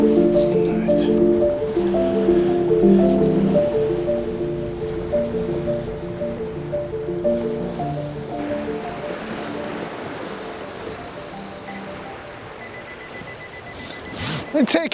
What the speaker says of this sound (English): waiting for the right time for the waves to just lap in, gentle